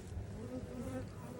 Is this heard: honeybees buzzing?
yes